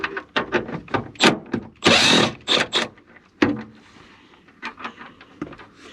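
A power tool whirs in short bursts while backing out a lower seat belt bolt inside a Pontiac GTO, loud and close, with a longer sustained run in the middle and quieter rattling afterward.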